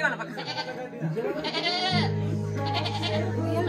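A person voices a goat's bleat, with a wavering, nasal vocal imitation of a few drawn-out bleats, close to the microphone with no other sounds.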